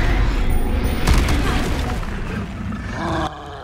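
A Confringo blasting-spell explosion in Hogwarts Legacy, a loud, deep booming roar that fills the whole clip and then drops off abruptly near the end.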